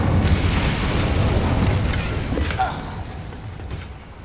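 A fire spell cast in Hogwarts Legacy on PS5 sets off a loud, sustained rumbling boom with crackling bursts, fading gradually over a few seconds.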